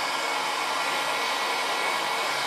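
A hot air dryer blows steadily while drying a screen printing mesh, a loud, constant hissing rush of air with no breaks or talk.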